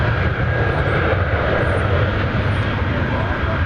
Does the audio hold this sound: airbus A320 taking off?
yes